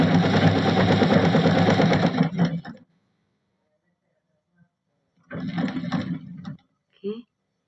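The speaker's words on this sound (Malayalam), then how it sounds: "ഇതുപോലെ രണ്ട് ഫോൾഡായിട്ട് ഇതുപോലെ ചെയ്യണം ആയിട്ട് സ്റ്റിച്ച് ചെയ്യണം" A sewing machine stitches fabric folded over twice during a tailoring lesson. A loud, fast, steady mechanical whir runs for almost three seconds, stops during a silence, then comes back in a shorter burst.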